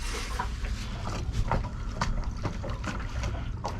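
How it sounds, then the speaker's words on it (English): A boat's brand-new engine running, a steady low rumble mixed with splashing water and wind, loud and continuous throughout. "This is the brand new engine. So we'll see what this looks like."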